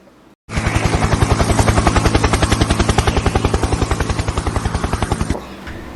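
A helicopter's rotor chops loud and close in a steady, rapid rhythmic thudding for about five seconds, starting abruptly and then cutting back to quiet.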